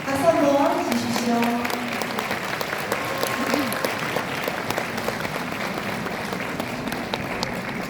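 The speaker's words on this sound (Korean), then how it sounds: "박수 한번 주십시오." An audience claps as a team is welcomed onto a stage, a steady wash of applause that carries through the whole stretch, with a presenter's voice over it at the start.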